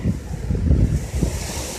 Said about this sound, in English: And it's really windy and really rainy, but the worst is past already.